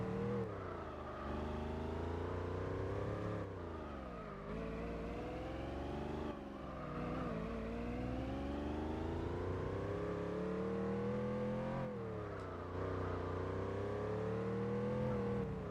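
A Mazda RX-7 rotary engine revs continuously on a race track in Gran Turismo 4, the pitch sweeping up through gears and dipping under braking, sustained and fairly loud with no pause.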